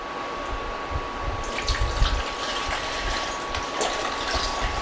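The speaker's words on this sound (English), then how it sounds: "now we're going to add 8 cups of beef stock" Beef stock pours into a pot for French onion soup, a liquid gush and splashing that starts after a quiet moment and continues near and steady, with a faint constant tone beneath.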